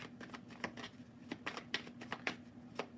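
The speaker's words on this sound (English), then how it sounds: "So let's shuffle that into the deck" Tarot cards are shuffled by hand into a deck, giving a quick series of soft riffling flicks and taps, close and fairly quiet, with no one speaking.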